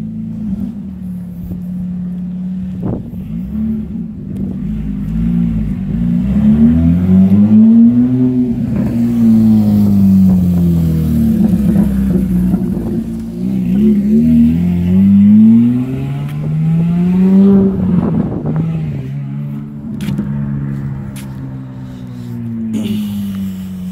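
A Nissan Maxima with an HR engine swap revving hard, its engine note climbing and falling through several long, loud pulls, heard close up with no talk over it.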